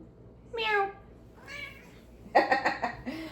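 A pet cat meows several times close by, with a drawn-out first meow, a softer second and a louder final cry.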